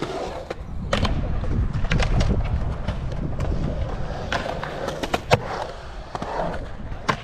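A skateboard rolls into a ramp and across it, wheels clacking over the coping in sharp knocks above a steady rolling rumble, close and fairly loud.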